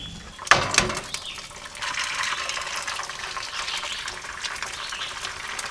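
Water poured into a pot for boiling at a forest campsite, with a couple of sharp knocks followed by a steady rushing gush that continues evenly, close and moderately loud.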